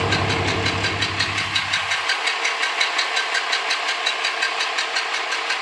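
A diesel engine runs at about 2500 RPM with a loud, steady, pulsing drone and a knocking rhythm that holds without a break. A deep low rumble drops away after about two seconds.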